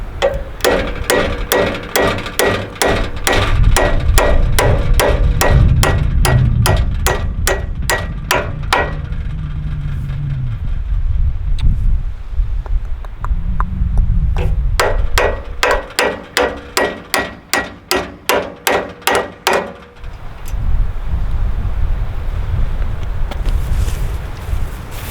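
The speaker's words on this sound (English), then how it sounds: "Maybe we have to hammer it through." Rapid metallic hammer strikes ring out in long fast bursts as a part is driven through on a pontoon trailer, loud and close. Wind noise and a low engine rumble run underneath.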